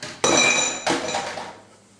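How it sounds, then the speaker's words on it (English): Browned beef tipped back into a skillet for shepherd's pie, heard as two loud clattering, clinking scrapes of a utensil against the pan, the second softer and trailing off into quiet. "now I'm gonna go ahead and add my brown beef back into my skillet"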